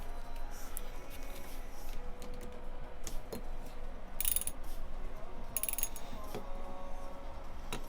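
Socket wrench tightening a fitting, with irregular ratcheting clicks and small metallic taps at close range against a busy background.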